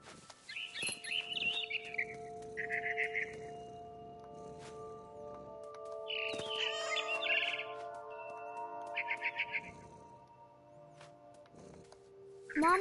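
A barn swallow chirps in bursts in a video game, returning to its nest outside a window, its bright twittering phrases repeating over several seconds against a quiet ambient backdrop.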